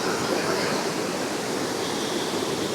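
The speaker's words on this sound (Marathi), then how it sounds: "आवाज तुम्ही ऐकतच असाल किती मस्त येते साऊंड ह्या पाण्याचा" River water rushes steadily at Kundamala near Pune, a dense, even roar close by that carries on unbroken with no talking over it.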